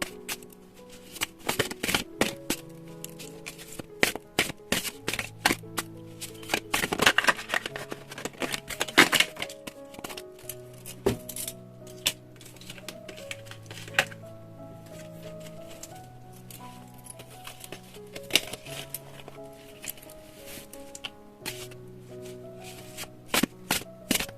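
Tarot cards are shuffled and handled, a quiet run of crisp riffling slaps and flicks over soft background music, with a denser flurry around the middle.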